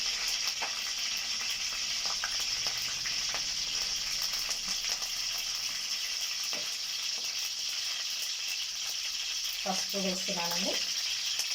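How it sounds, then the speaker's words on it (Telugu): Mustard seeds sizzle in hot oil for a drumstick leaf curry, a steady bright frying hiss through the whole stretch, with a voice speaking briefly over it and a short spoken phrase near the end. "ఆవాలను వేస్తున్నాను కొద్దిగా."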